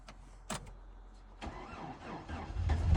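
A farm truck that has sat unused for a few days cranks over after a couple of clicks, then catches and settles into a close, low, steady engine rumble that grows slightly louder.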